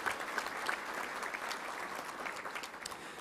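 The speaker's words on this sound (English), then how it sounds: "Let's give a round of applause to all of our sponsors if you could." A luncheon crowd at a Little Rock touchdown club gives a round of applause for sponsors, faint but steady clapping from many hands spread through the room.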